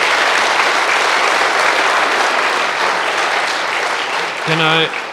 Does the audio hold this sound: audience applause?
yes